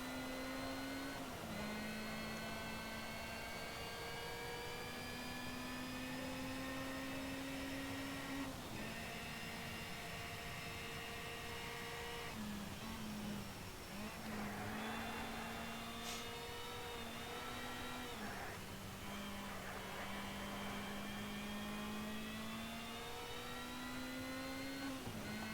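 A GT3 race car in the Shift 2 racing game roars loud and up close, its engine pitch climbing steadily through the revs and dropping sharply at each gear change, about four shifts across a continuous run with no voices.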